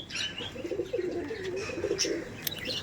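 A male pigeon coos in a low, bubbling, continuous phrase close by, with faint chirps and a brief sharp click over a steady ambient hiss.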